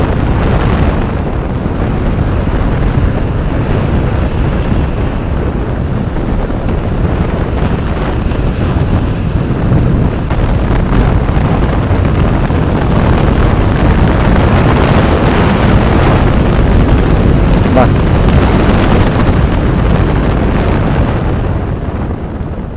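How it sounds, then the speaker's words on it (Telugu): Strong wind roaring past a motorcycle on a ghat road from Srisailam, a loud, constant buffeting rush that fills the whole stretch without letup. "గాలి అయితే విపరీతంగా కొడుతుంది అయ్యా"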